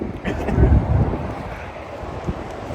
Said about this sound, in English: It's a bit windy and a bit loud here